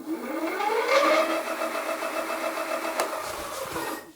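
An electric hub motor on a Hidoes B10 retro e-bike spins freely with the back wheel lifted, set to highest assist: a loud, steady whine rises in pitch, holds, and then winds down, with a single sharp click midway.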